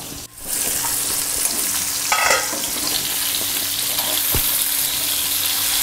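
Stuffed bitter gourds fry in a pan with a loud, steady sizzle, broken by a few scraping and knocking sounds as they are stirred and turned.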